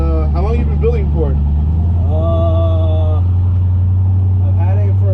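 A bagged 1968 Chevrolet C10 truck being driven, its engine giving a deep, steady low rumble that continues throughout while people talk over it.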